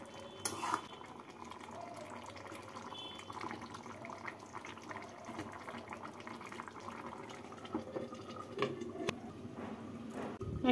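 Brinjal, potato and tangra fish curry stirred in a pan over a gas flame, with a steady wet sizzle throughout and occasional utensil scrapes and clinks, fairly close and unaccompanied by talk.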